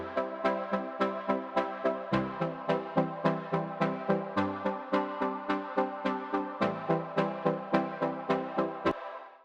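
A punchy brass part plays short, regular staccato stabs over shifting low notes in an 80s-style pop arrangement. The hits stay loud and steady, with no talking, and the part cuts off abruptly near the end.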